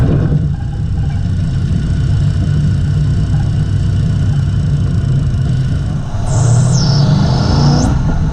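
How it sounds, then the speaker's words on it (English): A ute drives along with its engine running steadily, a loud continuous low rumble throughout, with a brief high whine or squeal rising near the end. "So why don't we go and take a little drive down there."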